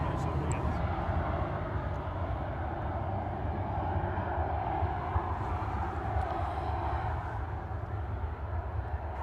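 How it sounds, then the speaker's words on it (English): An Etihad airliner lines up to depart Manchester Airport for Abu Dhabi, its steady broad jet rumble sustained at a distance while people talk over it. "Number one for departures, the Etihad back to Abu Dhabi"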